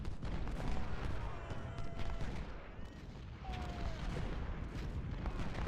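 Artillery and canister fire across a Civil War battlefield in Ultimate General: Civil War, a dense, continuous crackle of distant volleys and booms without a clear break.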